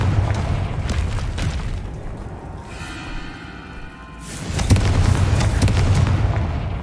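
In a video game, a Confringo fire spell detonates with loud booming blasts: heavy rumbling explosions at the start, a brief lull with a ringing tone, then another strong burst and crackling debris.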